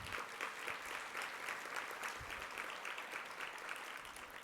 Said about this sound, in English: Can we give a round of applause to our sponsors,